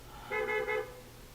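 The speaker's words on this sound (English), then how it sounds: "I know y'all heard that honking sound." A car horn honks three short times in a quick, evenly spaced burst, moderately loud over quiet background hiss, with no talking.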